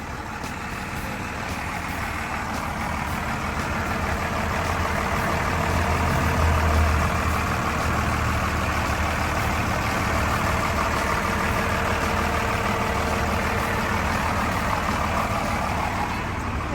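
A large Komatsu six-cylinder turbo diesel engine in a Komatsu WA200-5 wheel loader idles steadily nearby, a continuous deep rumble with a faint rise in the middle and no talking.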